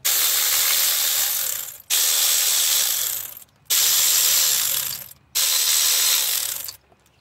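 Four long, steady bursts of ratchet clicking as 10mm ignition coil bolts are loosened on a 2006-2012 Toyota RAV4 2.4L with 153,000 miles, each burst about a second and a half, close and loud with short pauses between.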